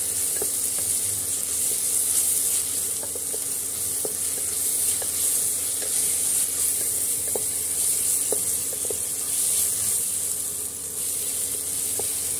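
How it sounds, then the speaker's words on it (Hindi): Ginger, garlic and three red chillies sizzle steadily in a pan, a continuous broadband hiss broken by occasional soft clicks of stirring, fairly close and with no talking. "अदरक लहसुन बहुत अच्छे से भून गया है।"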